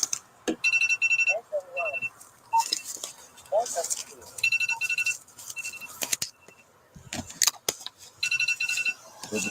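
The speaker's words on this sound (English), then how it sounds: "answer the phone already, man." A phone ringtone trills in repeated bursts alongside an alarm-like tone during a police arrest scene, with people speaking at intervals between the rings.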